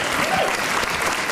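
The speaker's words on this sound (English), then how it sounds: "We should give Liza a round of applause." A studio audience claps in a steady, dense round of applause on a comedy panel show, loud and close with no one speaking over it.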